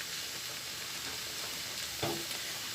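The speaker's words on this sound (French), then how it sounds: "Voilà, on a mis nos champignons sur l'oignon cuite dans la poêle." Mushrooms fry on softened onion in a pan, a soft, steady sizzling hiss broken by a brief stir or clack near the end, with no voices.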